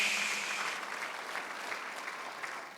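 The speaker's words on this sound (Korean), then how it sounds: "박수랑 하나 더 주세요" Congregation applause at a Sunday church worship service, a steady broadband wash of clapping that holds at even loudness and eases slightly toward the end, with no speech over it.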